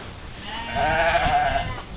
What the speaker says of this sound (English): this ewe started lambing, so she's got triplets so far